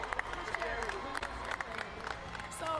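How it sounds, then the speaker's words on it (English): An audience at a Fortnite event cheers and claps together, a steady crowd roar with scattered claps and shouts, fairly distant and filling the space throughout. "can we get a big cheer in the audience?"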